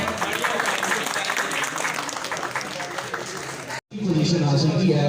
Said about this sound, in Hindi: इनकी हौसला अफजाई के लिए तालियां होनी चाहिए।